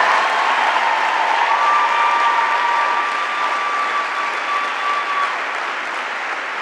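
A large audience at the Nancy Hanks Lecture on Arts and Public Policy gives sustained applause that stays loud and dense for over six seconds, then eases slightly with scattered cheers.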